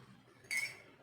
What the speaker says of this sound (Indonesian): ini sejumput garam, kemudian 1 sendok teh soda kue, kemudian kita ambil 2 sendok makan air, kemudian kita aduk